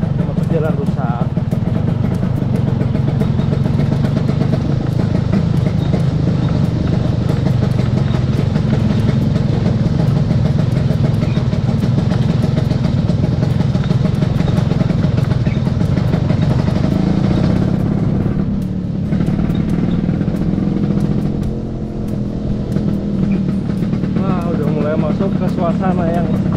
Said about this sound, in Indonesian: Motor jalan rusak.